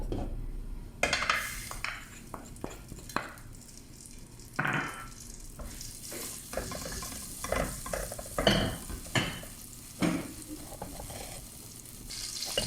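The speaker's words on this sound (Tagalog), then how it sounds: "Igigisa ko na siya guys. Butter yung ginagamit natin eh." Onion and garlic sautéing in butter in a pan for spring rolls: a close, crackling sizzle broken by irregular scrapes, clinks and clatters of a utensil stirring against the pan.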